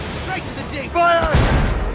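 Ship cannon fire in the video game Assassin's Creed Rogue: a voice speaks over sea noise, then a heavy low boom lands and rumbles on loudly to the end.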